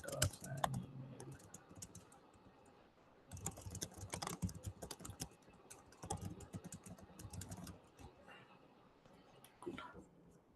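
Computer keys clatter in irregular bursts as someone types a chat reply. The tapping is quiet and close, with brief pauses between flurries.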